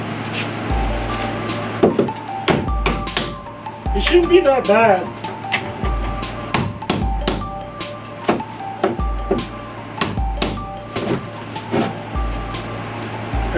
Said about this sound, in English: this is a claw hammer and a little pry.